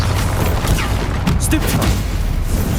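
Bombarda explosion spell in Hogwarts Legacy on PS5, fired mid-duel among other combat spells: a steady wall of low rumbling blasts and crackles with brief whooshing flares, loud and near for under three seconds.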